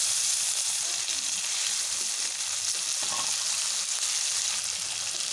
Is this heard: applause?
no